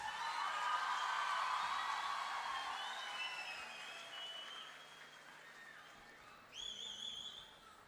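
Audience applause at a medical college silver jubilee celebration, fairly faint and gradually tapering, with whistling tones near the end.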